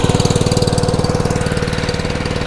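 The Honda engine on a brand-new Dewalt DXPW3625 3600 PSI gas pressure washer runs close by with a loud, steady, rapid chugging pulse at idle.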